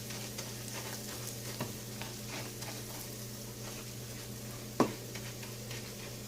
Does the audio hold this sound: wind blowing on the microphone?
no